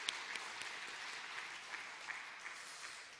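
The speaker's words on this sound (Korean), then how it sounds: "격려의 박수 한번 해주시면 고맙겠습니다." A church congregation applauds at a Sunday morning service, a dense, steady wash of clapping from many hands heard from a distance, with no voices over it.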